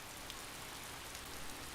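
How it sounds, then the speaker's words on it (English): Soft, steady hiss of rain beginning to fall in the video game Hakuoki: Edo Blossoms, a faint even patter with no voices. "It's starting to rain."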